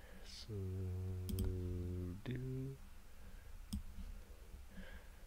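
A handful of sharp, faint computer keyboard and mouse clicks are spaced irregularly over a quiet room, partly overlapping a sustained humming tone.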